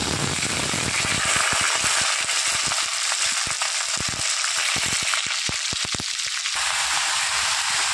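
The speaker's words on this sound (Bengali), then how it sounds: "কড়াইতে সবজিগুলো দিয়ে দিয়েছি, এবার ভালো করে নেড়ে চেড়ে নুন হলুদ দিয়ে দেবো।" Mixed vegetables fry in a wok, giving a loud, close sizzle with rapid crackling pops and sharp spatula scrapes while being stirred. The sizzle thins near the end, with no voices heard.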